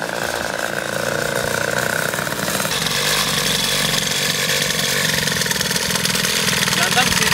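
Peugeot 103 moped fitted with a Malossi 70cc kit running after starting, a loud, raspy two-stroke buzz holding steady close by, with people talking over it.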